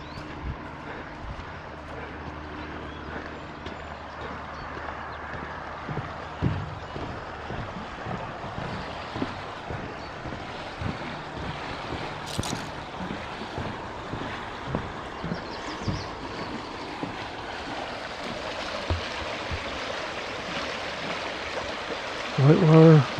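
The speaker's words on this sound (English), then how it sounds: "Whitewater River." Steady broadband rush of the Whitewater River flowing beneath a bridge in Whitewater State Park, continuous and fairly close, with wind buffeting the microphone and a voice speaking over it.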